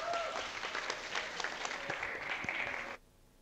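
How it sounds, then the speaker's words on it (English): An audience in a hall applauds the judges at the finale of a university Three Minute Thesis symposium, a sustained burst of clapping that stops abruptly near the end. "Can I have a big round of applause for the judges for deciding our winners for tonight?"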